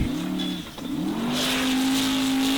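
A Formula Offroad race car engine revving hard at an off-road event in Iceland, a loud close roar that dips briefly and then climbs into a sustained high rev with no voices.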